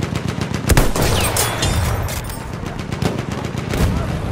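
Sustained enemy machine gun fire in the World War I shooter Battlefield 1, a dense rattling fusillade with booming shots layered over it, loud and continuous throughout amid battlefield noise.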